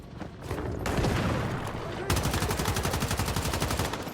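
Gunfire from an SMG and an LMG in the video game Once Human: a short burst, then sustained rapid automatic fire with dense, evenly spaced shots, loud and close.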